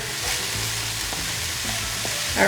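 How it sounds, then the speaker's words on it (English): Onions, green pepper and garlic saute in a hot pan, giving a steady close frying sizzle with a few soft stirring scrapes and clicks, no voices. "my onions and green pepper and garlic, and we're gonna saute that up for a few minutes"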